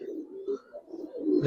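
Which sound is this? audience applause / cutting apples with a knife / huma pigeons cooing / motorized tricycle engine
huma pigeons cooing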